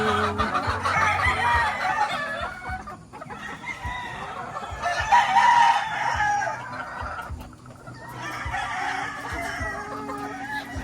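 Hens and a rooster on a farm, loud crowing calls rising and falling in repeated waves over a busy background of clucking fowl, close by with no talk.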